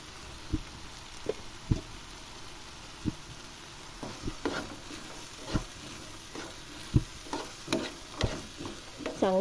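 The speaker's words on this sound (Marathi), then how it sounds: "चांगलं व्यवस्थित परतून घ्यायचे।" Peas and onion being stir-fried in a pan for a potato-and-pea curry, with a soft sizzle under irregular spoon scrapes and clicks spread across the whole stretch, close by and fairly quiet, with no talking.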